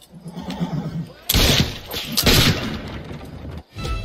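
Loud horse whinny from the Assassin's Creed III Liberation video game, a sharp burst of neighing amid a noisy action scene with booming effects, following quieter hoof and ambient sounds.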